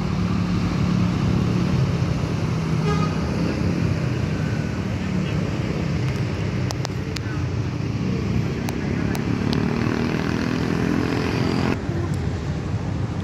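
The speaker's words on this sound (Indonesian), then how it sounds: "Body Jetbus 3 dari Adiputro guys, melintas pukul 20:23 guys." An Adiputro Jetbus 3 bodied bus drives past at night, a steady, loud broadband roar of engine and tyres that fills the whole stretch without letting up, with no one talking.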